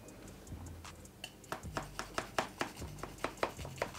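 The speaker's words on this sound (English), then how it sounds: "I'm just going to take a slightly smaller plate, and I'm just going to cut around it." A knife cuts through a cake layer around a smaller plate on a board, a steady run of crisp, close taps and chops that quicken and grow louder partway through.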